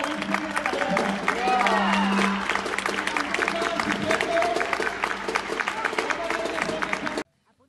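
Neighbours applaud from balconies and the street during a pandemic lockdown, with clapping echoing between buildings, distant voices and a whistle mixed in, before it cuts off abruptly.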